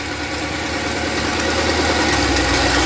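An LS-swapped Ford Mustang engine runs at a steady, loud idle close by, with a dense, even rumble and no voices.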